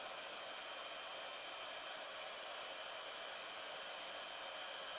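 Heat gun blowing on heat shrink tubing during a tiny model locomotive DCC conversion, a steady, even hiss-like roar of air held without change throughout.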